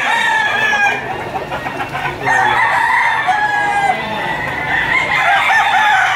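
Chickens and roosters at a busy poultry market, with several roosters crowing loudly in long overlapping calls amid steady clucking and a dense crowd murmur throughout.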